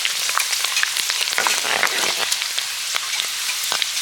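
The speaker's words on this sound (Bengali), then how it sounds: "কুরকুরেগুলো তেলে দেওয়ার সঙ্গে সঙ্গেই ভাজা হচ্ছে দেখুন" Homemade potato kurkure snacks frying in hot oil, a close, dense sizzle with constant crackling pops throughout, no voices.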